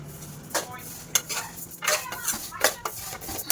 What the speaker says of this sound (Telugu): ఫస్ట్ అయితే సేమియాని డ్రై రోస్ట్ చేసుకోవాలి